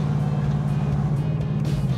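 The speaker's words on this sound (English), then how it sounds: "That was the sound of automatic rev matching, a feature of the 2019 and 2020 Mustangs" Steady low engine rumble from a 2019–2020 Ford Mustang GT, heard from inside the car, with a brief rev blip from automatic rev matching during a downshift on a winter road.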